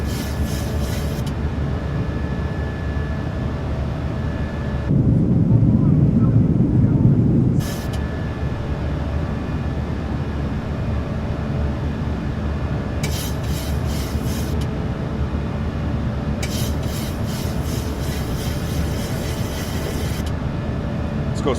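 Simulated takeoff roll of a PMDG 737-800 in Microsoft Flight Simulator 2024 with the Boris sound pack: a continuous rumbling, rolling roar, with a heavier low surge partway through and intermittent hissing, no talk.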